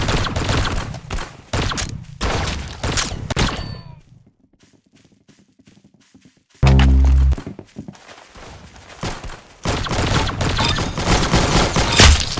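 Gunfire in the video game Arsenal comes in loud, rapid bursts, broken by a quiet stretch with soft ticking and one heavy boom before the shooting resumes.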